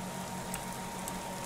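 Steady rain patters on a rooftop inside the horror game Kraven Manor, a dense, even wash of drops holding level with no pauses and no voices.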